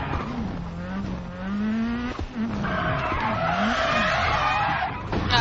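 Rally car in the WRC 10 video game skidding under the handbrake, tires squealing over a rising and falling engine note, loud and continuous across several seconds.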